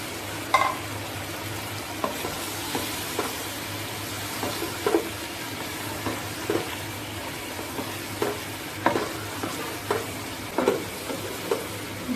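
Meat frying in a pan for chicken pulao, a steady sizzle with intermittent stirring scrapes and soft clinks recurring every second or so, close and continuous with no talking.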